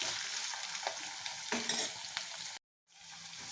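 Tempering spices sizzle in hot oil for a toor dal curry, a dense close crackle broken by stirring scrapes, then a short silent gap before the frying resumes.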